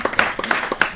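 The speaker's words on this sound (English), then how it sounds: "Clap it up." A few quick claps from a studio audience in brief, uneven bursts, close and moderately loud.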